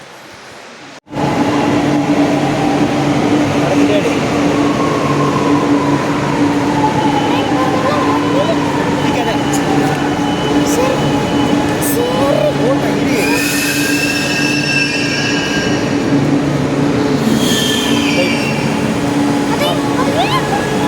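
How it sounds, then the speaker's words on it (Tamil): A metro train bound for Parangimalai runs loud and steady with a constant low rumble, wheels squealing now and then at higher pitch, all close by; voices are faintly present beneath the noise. "பரங்கிமலை போகிற ட்ரெயினில் ஏறுவோம்"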